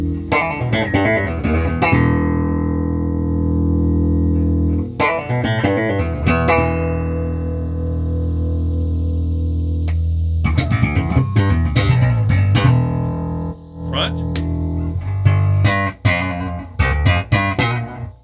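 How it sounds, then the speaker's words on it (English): A Fender American Dimension 5 bass guitar plays clear, sustained low notes, each ringing out and decaying, separated by short pauses and a few quick plucked figures, heard up close through an amp. "Now, let's check out the switch."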